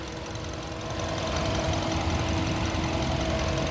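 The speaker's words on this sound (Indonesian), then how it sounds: "Mesin halus, nggak ada kendala." 2012 Mazda 2 Sport Matic hatchback engine idling smoothly, a steady close hum with a faint ticking rhythm that grows slightly louder after the first second, with no voices.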